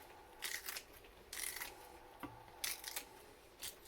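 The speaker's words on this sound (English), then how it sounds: "a bit of scissor action." Kitchen scissors snipping chilli peppers in a few quick, close bursts of crisp cutting, separated by brief pauses, with no talking.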